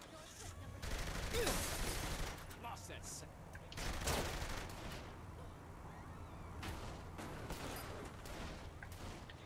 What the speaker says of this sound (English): who's shooting at me? Who's shooting me?